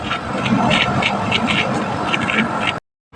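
A TCL portable air conditioner hums steadily up close, a broad whirring drone with a faint rhythmic pulsing, cutting off abruptly near the end.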